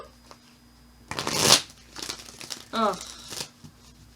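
A deck of tarot cards being shuffled up close, with a loud riffle burst followed by softer crinkling shuffles, and a brief spoken exclamation in between.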